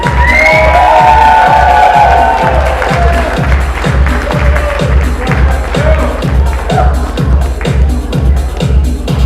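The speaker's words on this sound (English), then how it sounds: "A nice round of applause for them" Wedding reception guests applaud and cheer loudly, dense clapping with whoops and shouts over a steady thumping music beat, close and continuous.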